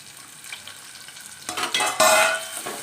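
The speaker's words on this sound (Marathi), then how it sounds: "बारीक चिरलेला कांदा" Finely chopped onion dropped into hot oil with mustard seeds and cumin for a stuffed brinjal masala, quiet at first, then a loud sizzle bursts up partway through and keeps hissing alongside spoon stirring.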